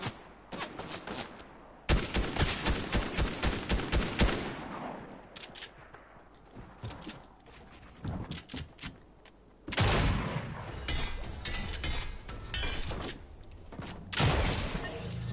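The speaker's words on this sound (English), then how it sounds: "someone shooting me" Rapid bursts of gunfire in the video game Fortnite, with loud volleys, scattered single shots and quieter gaps between salvos, all without voices.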